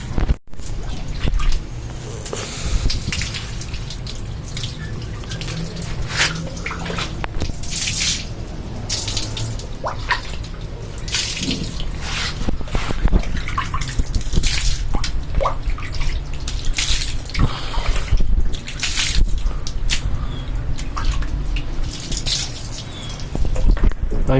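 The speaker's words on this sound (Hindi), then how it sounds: "मैं अपने हाथ से इस पे पानी डाल रहा हूँ।" Water is poured by hand over a goat during a bath, producing continuous splashing and dripping with irregular louder gushes close by, and no speech.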